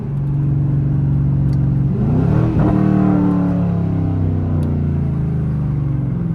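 A Chevrolet Camaro SS engine drones loudly and steadily from inside the car, swelling into a quick rev as it downshifts around the middle, then settling back to a deep, even hum.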